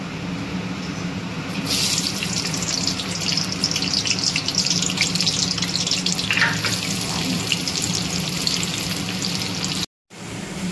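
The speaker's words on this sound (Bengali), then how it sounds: "এবার বিরিয়ানির যে পেরেস্তাটা সেটা আগে প্রথমে ভেজে নেব।" Sliced onions for biryani birista frying in oil in a wok, giving a loud, continuous close sizzle that hisses evenly for several seconds before a brief cut.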